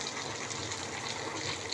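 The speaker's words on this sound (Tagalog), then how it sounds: "Lagyan po natin ng tubig." Water pours steadily into a cooking pot while tinola chicken soup is being made, a continuous close gushing rush with no voices over it.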